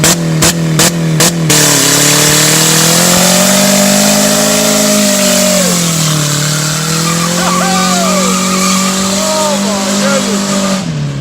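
Modified race car engine roaring loudly at sustained high revs, rising and falling in pitch, very close and dominant, opening with a few sharp bangs and with brief talk underneath.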